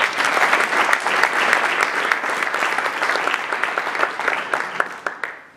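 Lecture-event audience applause in a hall, a steady patter of many hands with distinct sharp claps standing out, continuing at even volume before thinning and stopping at the end.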